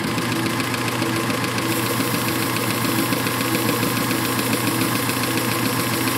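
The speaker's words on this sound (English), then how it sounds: "the belt goes on a part of the pulley that it doesn't like, and it jerks back" A belt-driven metal lathe from around 1919 running steadily with a continuous mechanical whir and rattling vibration, the belt jerking on the pulley, close by, with no voices.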